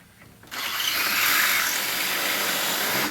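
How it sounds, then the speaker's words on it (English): A power drill whirs up after a brief quiet moment and keeps boring steadily into wood, loud and close, with no voices. "I'm going to drill my hole."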